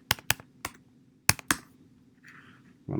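Sharp, close clicks of typing on a computer keyboard come in two quick clusters of keystrokes with a brief pause between them, in an otherwise quiet room.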